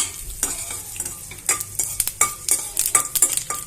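Black pepper and cumin seeds frying in ghee, a crackling sizzle broken by sharp scrapes and clinks of a spoon stirring the metal pan, close and irregular.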